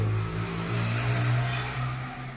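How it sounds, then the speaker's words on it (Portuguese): Motorcycles passing by on a street, a steady loud engine drone that swells and fades as they go past nearby. "Tá passando as motos aqui"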